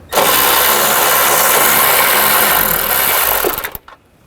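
A power tool fitted with a 10mm socket removes an engine mount nut on a 2.5L Nissan Rogue, a loud continuous whir lasting about three and a half seconds before cutting off abruptly.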